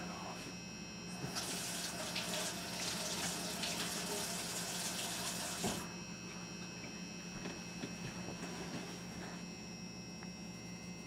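Kitchen tap water runs hard over a frosting spatula for a few seconds, a loud rushing splash that cuts off abruptly, leaving a low mains hum and quiet room noise.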